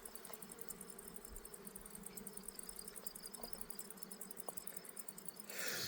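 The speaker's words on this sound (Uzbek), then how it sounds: "Zo'r uchyapti arilar" Bees flying around an outdoor hive, a dense continuous buzz and hum of many insects close by with no one speaking, ending in a brief burst of louder noise.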